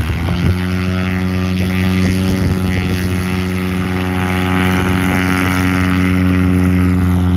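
An Aviat Husky light aircraft with a stock 180 engine takes off, its loud, steady propeller drone and engine hum holding strong and close for the whole stretch.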